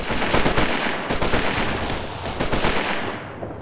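Loud, continuous rapid automatic gunfire in the military shooter Operation Flashpoint: Red River, dense volleys of shots that run without pause through the whole stretch.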